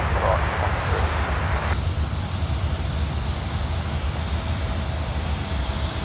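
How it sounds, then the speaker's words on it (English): A Qantas Airbus A330-200 jet from Perth on final approach to runway 16 right at Sydney, a loud sustained engine roar rumbling steadily overhead, with a brief click early on. "A330-200 finals now for 16 right, coming in from Perth"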